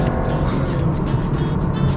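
BMW 320e plug-in hybrid with a ZF automatic gearbox accelerating at full throttle in hybrid mode, a steady broadband engine and road drone that stays loud and even throughout, with no talk over it.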